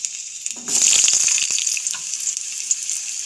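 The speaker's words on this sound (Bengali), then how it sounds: "কেটে রাখা আলু তেলের মধ্যে দিয়ে দিচ্ছি। আলুগুলো একটু হালকা হালকা ভেজে নেব।" Cut potatoes dropped into hot oil set off a sudden loud, crackling sizzle that stays bright and steady, close by, with a few small pops and no voices.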